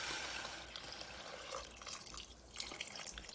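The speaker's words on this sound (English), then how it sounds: "I'm going to add some water just to get to the top of the meat" Water pours into a pot of goat meat and yam pepper soup, a steady faint splashing and trickling that runs continuously with slight surges.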